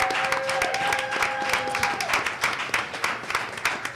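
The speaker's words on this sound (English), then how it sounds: "Can we give a round of applause to Byron," A crowd at a sports grill applauds during a live comedy show taping, a dense, continuous burst of clapping with crowd noise beneath it, fairly loud and unbroken throughout.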